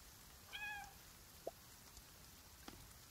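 A cat meows in the Cat Fantasy Android video game. The single short, clear meow is followed by a couple of faint ticks and taps over a quiet background.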